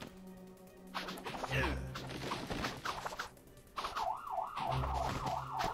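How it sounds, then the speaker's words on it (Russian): A wailing siren in the Teenage Mutant Ninja Turtles: Portal Power video game rises and falls in a steady looping sweep over game music and crashing effects, loud and close. "Сирена."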